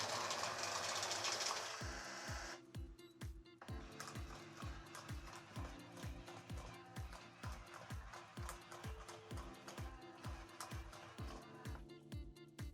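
A Max 6 poker dealer robot deals cards for Texas Hold'em, blackjack or UNO, giving a steady run of rapid mechanical ticks and whirring pulses. The rhythm is close and regular, with no talking.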